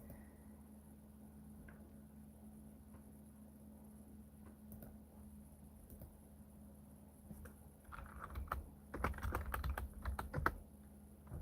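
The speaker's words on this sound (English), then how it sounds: "Oh, it's actually letting me type in the Kick chat this time?" Computer keyboard typing into a Kick stream chat, with faint scattered key taps early on, then a denser, louder burst of rapid clicking near the end, alone without talk.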